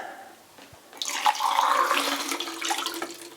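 Film-developing chemicals poured into a developing tank, heard as a close, continuous splashing pour that begins after a quiet second and runs to the end without talk.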